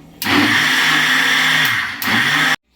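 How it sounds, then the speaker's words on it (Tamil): Mixer grinder whirring loudly as it blends mango with condensed milk, a steady motor drone in two bursts with a brief dip between, then cutting off to silence. "இதை இப்போ நம்ம கிரைண்ட் பண்ணி எடுத்துக்கலாம்"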